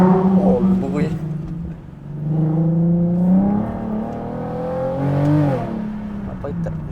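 Hybrid car fitted with a Nissan 350Z engine revving on a track, several rising and falling engine surges with strong harmonic whine, loud and close, with a voice heard over it.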